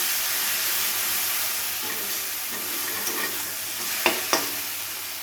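Tomato and spices cooking down in oil in a kadai for a katla posto fish dish, a steady close sizzle with soft stirring and a couple of sharp spoon clinks near the end; no voices.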